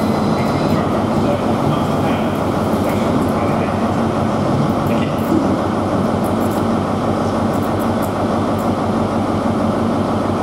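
Charter train departing London Paddington for Carmarthen, GWR Class 43 power car 43002, a steady loud rumble of diesel engines and rolling stock throughout, with faint voices in the background.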